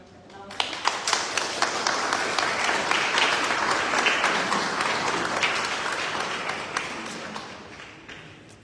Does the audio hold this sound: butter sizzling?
no